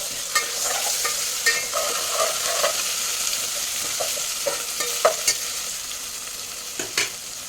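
Ginger garlic paste, about a teaspoon, sizzles as it is stirred in a hot pan, a steady frying hiss broken by light scraping clicks of the spoon, close and alone without voices.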